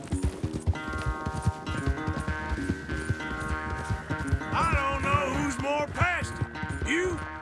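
A horse gallops in the Red Dead Redemption 2 video game with rhythmic clip-clop hoofbeats under orchestral game music, racing along in a steady driving pattern.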